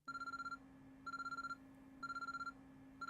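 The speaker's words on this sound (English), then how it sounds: "An urgent-sounding ringing noise suddenly rang throughout the room." An urgent electronic phone ring in the Chaos;Head visual novel: four bursts of rapid trilling tone, evenly spaced about a second apart with brief silent gaps, clear and alone.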